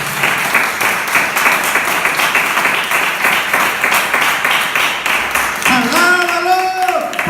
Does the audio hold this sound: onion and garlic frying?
no